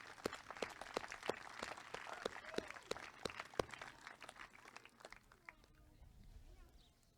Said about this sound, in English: Another round of applause for Trace Pugh.